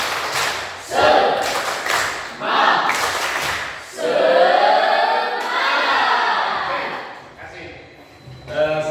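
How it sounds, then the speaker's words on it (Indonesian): A school classroom group performs a rhythmic spirit clap, bursts of claps and thumps coming in waves alongside loud chanting voices, fairly close and energetic throughout. "Tepuk semangat dulu, tepuk semangat."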